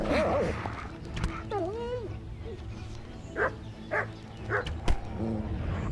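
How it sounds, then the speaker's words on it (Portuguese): Yipping, dog-like barks from a wolf in the medieval game Kingdom Come: Deliverance come in a few quick, close bursts near the end, with a player's voice talking earlier. "Esse lobo parece um cachorro velho, né?"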